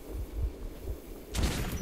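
A single hand cannon shot in Metro 2033, a muffled low thumping ambience broken by one sudden loud, bright blast that rings on briefly.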